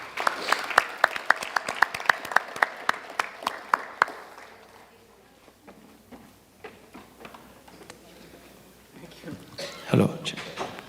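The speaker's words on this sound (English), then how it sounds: "please give a big round of applause and welcome Dr." Clapping at a wellness annual meet as a speaker is welcomed onto the stage, beginning as a few sharp, distinct claps that thin out and fade, then a brief swell of noise near the end.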